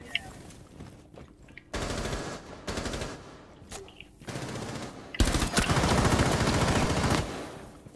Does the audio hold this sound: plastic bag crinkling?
no